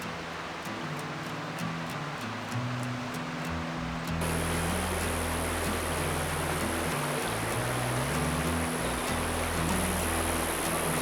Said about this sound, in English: we're here, we're at the river, creek if you will.